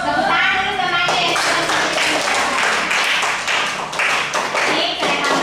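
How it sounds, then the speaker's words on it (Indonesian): Students in a classroom clap for a classmate during a lesson on blood groups. Brisk, uneven handclaps start after a moment of murmuring and continue loudly for several seconds. "Tepuk tangan dulu temannya."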